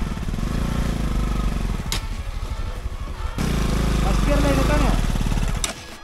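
Off-road vehicle engine on a rough camping trail in Coorg, a loud close motor droning and revving with rhythmic pulsing, briefly interrupted then rising again, with people talking over it.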